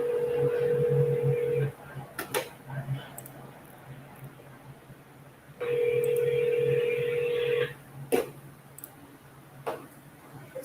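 A phone call dials out and rings, shown by two bursts of steady tone with clicks between them, then goes to a voicemail recording. The sound is fairly quiet, with faint background noise.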